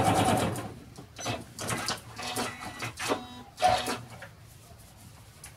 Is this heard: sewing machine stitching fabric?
yes